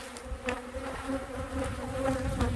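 A close, continuous hum of Carniolan honey bees swarming inside a tall multi-box hive, soft but steady, a few individual buzzes flaring above the mass of wingbeats.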